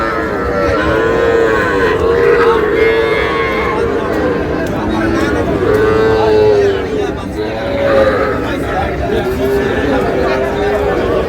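Sahiwal breed bull calves at a cattle sale in Cumilla, Bangladesh, mooing repeatedly in long, loud, overlapping calls amid a busy crowd with people talking throughout.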